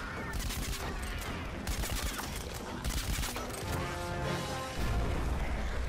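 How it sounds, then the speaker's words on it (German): Dense, loud bursts of explosions and gunfire rumble and crack continuously in the video game Plants vs Zombies Garden Warfare, a chaotic battle din with booming low thumps. "Und um mich rum explodiert schon wieder alles."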